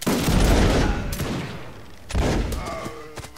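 A regiment fires a musket volley in a video game: a loud, ragged crackle of many shots at once that rolls and fades, followed by a second scattered burst and a few trailing pops.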